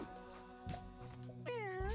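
Cat meowing in a video game, a clear tonal meow rising near the end over a steady game soundtrack, with a few softer cat sounds earlier.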